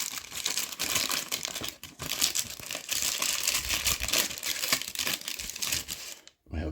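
Plastic packaging around a Titanic model kit part crinkles and tears continuously at close range, with a steady rustling that stops abruptly near the end.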